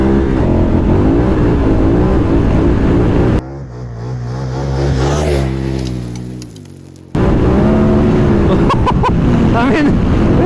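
A 160-horsepower KTM 1290 Super Adventure motorcycle in sport mode rides a gravel mountain single track. Its engine roars and surges through one loud acceleration in the middle, with wind buffeting and speech before and after.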